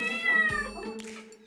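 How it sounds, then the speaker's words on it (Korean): Several hungry house cats meow insistently in protest at mealtime, a close, loud run of overlapping harmonic cries lasting about a second and a half with no talking. "하지만 사랑이 사남매의 항의가 계속 이어집니다."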